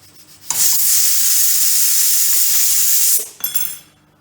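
Masala with chilli powder roasts in a pan over low heat for vada pav filling. A loud, steady sizzling hiss swells in, holds for nearly three seconds, then drops away with brief stirring scrapes.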